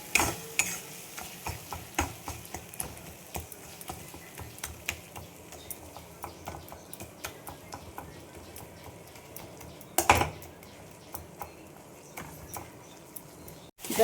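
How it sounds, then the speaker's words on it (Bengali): Yogurt with ginger garlic paste for biryani is stirred in a pot. A spoon scrapes and knocks in irregular, close, quiet clicks with the occasional louder clatter. "এটা চালাতে হবে, নাহলে কেটে যাবে দইটা"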